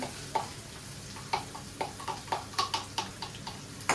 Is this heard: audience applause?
no